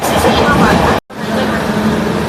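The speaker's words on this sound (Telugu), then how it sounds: "ప్రస్తుతానికి అయితే ట్రైన్ ఇప్పుడే స్టార్ట్ అయింది" A passenger train bound for Tirupati rolls along just after departure, a loud continuous rumble and rattle from inside the carriage, broken by a brief cut, with someone talking over it.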